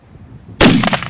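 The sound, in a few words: gunshots fired to scare bears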